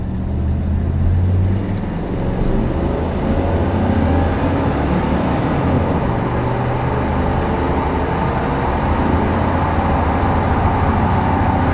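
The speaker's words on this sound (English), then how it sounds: "Strong motor, transmission shifts like it should, no complaints mechanically whatsoever" A 1989 Chevrolet C1500 pickup with a 5.7 engine on a test drive: a loud, steady low engine drone and road rumble, close and continuous with no talking.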